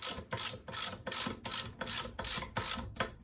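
A ratchet clicks in about eight quick, even bursts while tightening the rear sprocket nuts on a Kawasaki Z1000 in a garage, close and clear with no talk.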